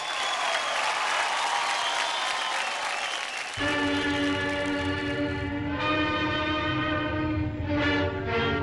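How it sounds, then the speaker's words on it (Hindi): Studio audience on a televised dance and comedy show gives loud, dense applause for about three and a half seconds before it gives way to a swelling song. "जोरदार ताली हो जाए"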